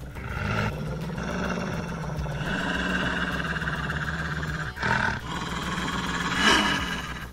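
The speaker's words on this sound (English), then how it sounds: "Oh god, there's a wolf!" A wolf roaring in the Little Red Lie video game, a long, loud growling roar that holds for several seconds over intense game music, with a sharper cry near the end.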